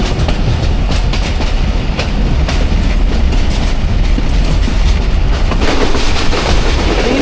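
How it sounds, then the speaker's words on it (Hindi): The 13 Up Awam Express rushes through Buddhu railway station in a loud, continuous roar, with rhythmic clickety-clack of wheels over rail joints close by. "बुद्धू रेलवे स्टेशन से थ्रू पास होगी 13 अब अवाम एक्सप्रेस।"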